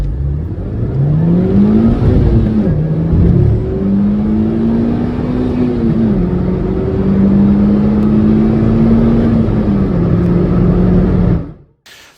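A Renault Twingo GT with its 1.2 engine accelerates hard, revs climbing and dipping through several gear changes. The engine note is loud and close, then cuts off abruptly at the end.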